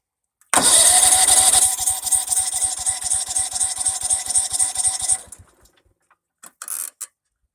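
A DR woodchipper engine is pulled to life, then runs loud and close with a rapid, even mechanical chatter and a high whine for several seconds before dropping away, followed by a few brief faint knocks.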